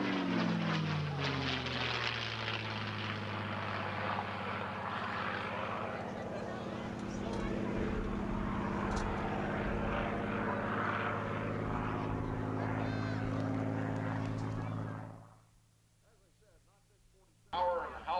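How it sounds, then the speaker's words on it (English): A Rolls-Royce Merlin-engined aircraft flies past at the 1995 Sussex Airshow. Its engine gives a loud, sustained howling roar that holds for about fifteen seconds and then fades away quickly, while a commentator talks over it. "Power and howl of that Rolls-Royce engine"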